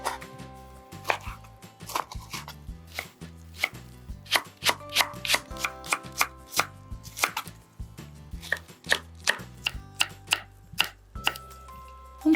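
A knife chops blanched cabbage leaves (ugeoji) on a cutting board in a steady run of sharp, close taps, loud and alone with no talking.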